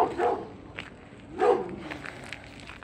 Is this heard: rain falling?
no